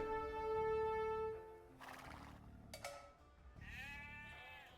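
Sheep bleat in the strategy game Age of Empires II, a wavering call near the end that follows earlier tonal game effects and short bursts, all at moderate level with no talk.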